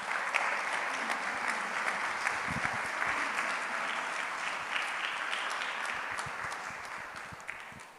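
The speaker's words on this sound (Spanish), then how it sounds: "Dele un aplauso al Señor" A church congregation applauds during a sermon, sustained crowd clapping that stays strong for several seconds before tapering slightly toward the end, with faint voices underneath.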